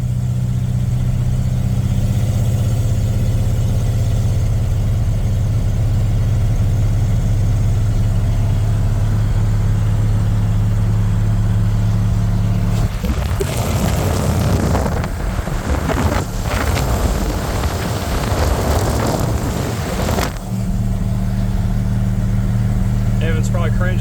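A 1986 Ford F150 pickup with a 351W V8, NP435 gearbox, glass pack mufflers, long tube headers and an X-pipe drones loudly and steadily while driving, with a burst of wind buffeting in the middle as the phone hangs out the window.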